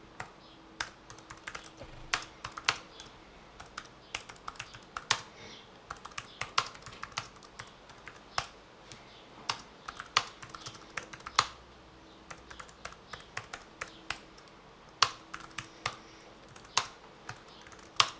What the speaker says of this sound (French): je vous laisserai écouter la petite vidéo qui suit pour que vous voyez le bruit que ça donne